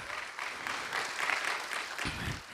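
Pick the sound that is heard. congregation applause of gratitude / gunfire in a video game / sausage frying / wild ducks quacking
congregation applause of gratitude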